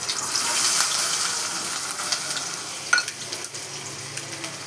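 Fresh chicken rinsed under running tap water, a loud, steady hiss of flowing water with brief splashes partway through, close by and with no speech.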